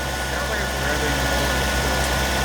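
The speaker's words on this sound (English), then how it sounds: "The engine sounds a little weird." Mitsubishi Cordia Turbo engine idling unevenly, a loud, steady low rumble with a fluctuating hum and no pauses.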